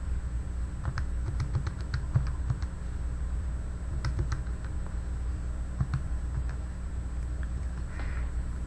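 Fingers typing on a computer keyboard, clusters of quick close clicks in bursts with short pauses, over a steady background hum.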